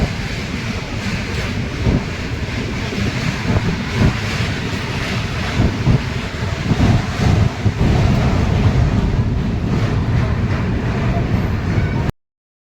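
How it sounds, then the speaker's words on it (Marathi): A passenger riding inside the Mahanagari Express from Varanasi to Mumbai hears a loud, continuous rumble of the moving carriage with rattling and wind buffeting, and voices mixed into the din. "आता आम्ही ट्रेनमध्ये बसलो आहे."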